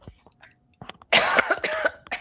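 A short coughing fit, with a few small throat noises followed by a loud burst of harsh, close coughs that trail off into a final cough.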